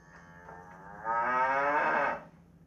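A single drawn-out cow moo on a farm, starting softly then rising into a loud, full bellow that holds for about a second before stopping; no talking.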